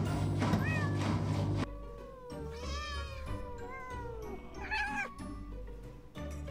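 A cat in the game Cat Simulator meows several times, drawn-out rising and falling cries broken by short gaps, loud and close over background game sound.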